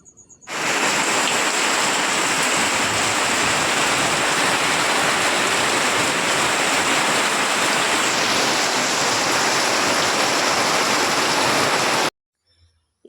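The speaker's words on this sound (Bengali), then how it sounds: "এইমাত্র বৃষ্টি কমালো" Heavy rain during a stormy day pours in a dense, steady hiss for about eleven seconds, then cuts out abruptly into near silence.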